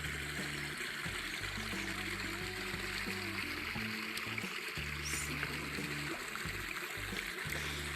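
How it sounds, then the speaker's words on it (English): Waterfall below a footbridge on the Fyrish walk in Scotland, a steady broadband rush of falling water heard from above, continuous and fairly loud under a low hum. "จะเห็นว่าน้ำตกข้างล่างมีน้ำตกด้วยนะคะจะได้ยินเสียงน้ำตก"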